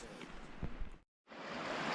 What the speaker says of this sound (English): Creek running through here. Running pretty good.